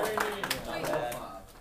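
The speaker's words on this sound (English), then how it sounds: "Can we all applaud for Coy?" A classroom gives a student a round of applause, with a brief patter of clapping hands mixed into steady chatter and voices around it.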